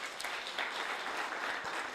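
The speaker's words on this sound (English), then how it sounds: "Let's clap for them." Audience applause for parents' association officials at a school welcome address for parents and new day students, steady dense clapping throughout without pause.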